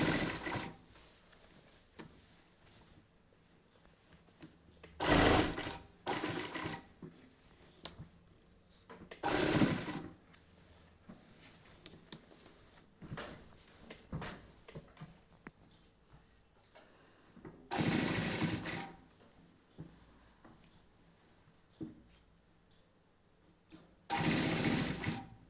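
A sewing machine stitches a cotton nighty in several short, loud bursts of rapid mechanical whirring, separated by quieter pauses with faint handling noises and ticks.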